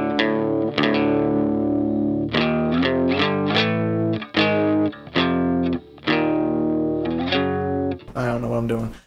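Electric guitar on a clean tone, run through a Behringer Hellbabe wah pedal into a Boss Katana amp with reverb switched off, plays a sequence of plucked chords and single notes, slightly crunchy and loud, with brief pauses between phrases.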